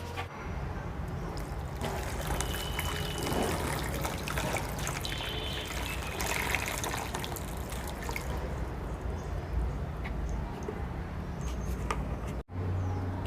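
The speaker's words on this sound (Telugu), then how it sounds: "దీని నిండా వాటర్ పోసి పెడతాను" Water poured from a container into a plastic seedling pro tray to soak the seed-starting mix, a continuous close trickling splash lasting several seconds with no talk.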